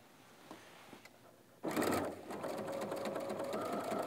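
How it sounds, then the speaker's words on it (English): A sewing machine stitches along the folded edge of a coat seam, first quietly, then in a loud, steady run of rapid needle strokes close by. "take this back to the machine, line your needle up right with that folded edge"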